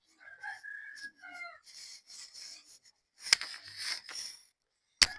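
Hen clucking and calling in short, close bursts before feeding, with a sharper squawk-like burst and a brief loud click near the end.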